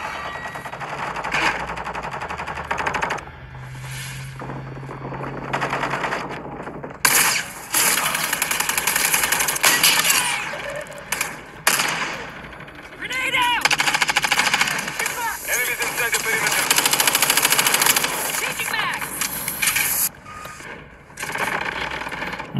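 Automatic gunfire in an online shooter video game, fired at an enemy in repeated loud bursts mixed with engine-like drone, with voices talking over the action.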